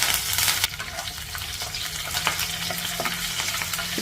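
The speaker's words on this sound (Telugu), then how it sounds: "ఇప్పుడు పోపు దినుసులు వేగాయి. ఇందులో కొద్దిగా కరివేపాకు వేసేసుకున్నాము." Mustard seeds, urad dal, cumin and curry leaves sizzling in hot oil as a tempering, a loud steady frying crackle with small pops, close up and uninterrupted.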